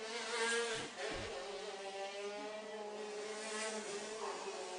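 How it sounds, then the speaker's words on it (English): Shifter karts climbing a hill during a winter race, their high engines droning and whining steadily, one passing with a brief rougher burst before the buzz settles at a distance. "And no problems getting up that hill, by the way, for these shifter cars."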